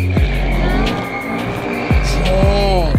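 A car accelerates hard in a racing or drift setting, its engine revving loudly while the tires squeal and skid repeatedly, with sharp rising and falling engine sweeps close by.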